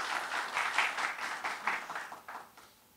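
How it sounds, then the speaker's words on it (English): An audience at a book release event gives a round of applause for a host, with rhythmic clapping that is fairly loud at first, then gradually thins and fades away. "I think he deserves a round of applause."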